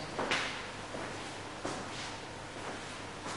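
A wardrobe's sliding doors in a house bedroom rumble and glide with a couple of soft knocks as they move, fairly quiet and close, no talking.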